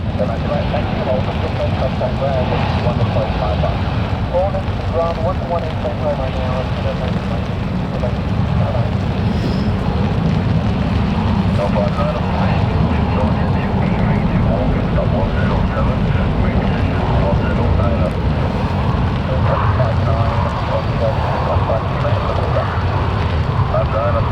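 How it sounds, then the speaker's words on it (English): Ryanair airliner bound for Malaga climbs out of Manchester Airport during a storm, a steady roaring jet rumble mixed with gusting wind across the whole stretch, as someone talks over it. "Ryanair that's just taken off is going to Malaga."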